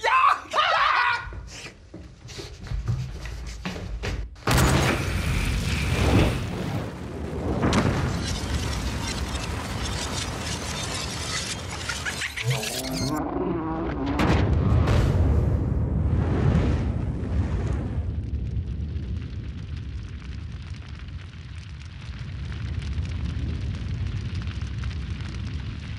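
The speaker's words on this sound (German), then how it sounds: "wie lange dauert es, bis eine Campinggaskartusche, die über einer Flamme steht, explodiert" A camping gas cartridge set over an open flame bursts in a sudden loud blast a few seconds in, followed by a long rush of noise, crackling and excited voices, with people talking before and after.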